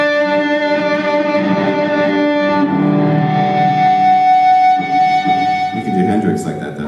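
Overdriven electric guitar note wavering with vibrato while the other, unmuted strings ring out underneath, a messy sustained wash of tones.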